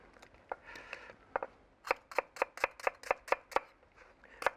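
A knife chops shallot on a board: a few scattered crisp taps, then a quick, even run of about a dozen sharp chops, close and distinct, with no talking.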